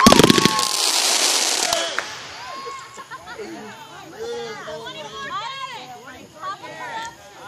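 Fireworks burst at a 4th of July TNT fireworks show, with a loud crackling barrage at the start that quickly fades, followed by children and adults chattering and calling out.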